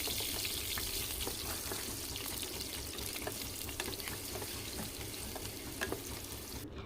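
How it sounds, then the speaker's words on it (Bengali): Cubed potatoes fry in hot oil over a medium flame, giving a steady, dense sizzle that stays loud and even throughout with no voices. "তেলের মধ্যে আলুগুলো দিয়ে দিলাম। মিডিয়াম ফ্লেমে ভালো করে আলুগুলোকে ভেজে নেব।"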